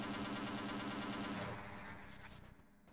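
Mounted turret machine gun in Half-Life blasts a steady rapid burst for about a second and a half, then the fire thins into scattered shots and echoes as it tails off.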